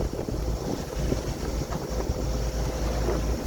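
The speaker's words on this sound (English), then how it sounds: "Still with all the wind." Wind rushing past a sailboat at sea on North Atlantic preparation, a constant loud buffeting roar over the microphone with low rumbling and faint water wash beneath, steady throughout and with no voices.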